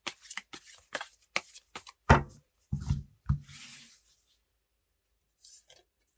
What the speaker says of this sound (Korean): 카드 한번 뽑아 볼게요